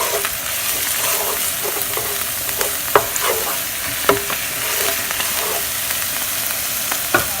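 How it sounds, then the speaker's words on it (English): Garlic sautéing in about 1.5 tablespoons of oil in a non-stick pan, a steady close sizzle with sharp scrapes and clinks of a utensil stirring at irregular intervals. "Saute the garlic for a minute."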